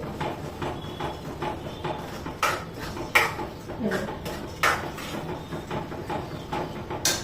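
Wheat and jaggery are mixed in a wok, with a spoon scraping and clinking against the metal in irregular strokes and a few sharper knocks, close and moderately loud, with no talk.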